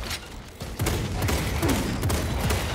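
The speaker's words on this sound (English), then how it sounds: "Oh, this is semi-auto." Semi-automatic weapon fire in the video game Space Marine 2 rattles out in rapid repeated shots, loud and dense over a constant background of game noise.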